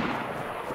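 Dense, continuous burst of video game gunfire in DayZ Standalone, with a booming low rumble, loud and sustained throughout with no pauses or voices.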